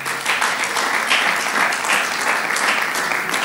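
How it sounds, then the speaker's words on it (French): An audience at a Bible school graduation ceremony claps continuously, a dense steady patter of many hands filling the room at a constant, fairly loud level without pause. "Est-ce qu'on peut applaudir pour cet homme-là?"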